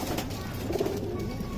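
Pigeons coo steadily and close by, a low murmuring chorus from a loft of fancy Madrasi pigeons with young birds, continuous throughout with no talking.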